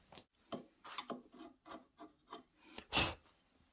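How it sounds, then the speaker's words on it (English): Chisel scraping waste wood from the inner corner of a freshly cut tenon: a series of short, close rasping strokes in uneven rhythm, with one louder scrape near the end, no talking. "This is easily cleaned away with a chisel."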